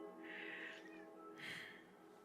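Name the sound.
kitten noises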